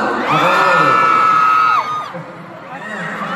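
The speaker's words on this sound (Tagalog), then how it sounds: "Lahat na excited kayo, Terry, sumigaw!" Crowd of fans screaming and cheering at a concert soundcheck, loud and close, with a long sustained high shriek that breaks off and then quieter cheering that swells back up.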